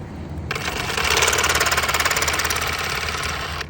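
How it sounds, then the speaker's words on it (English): A power saw cuts through pipe for a tee lateral line repair, a loud, rapid buzzing rattle that starts abruptly and runs steadily for about three seconds. "Hey Justin, how did you know to cut it right there?"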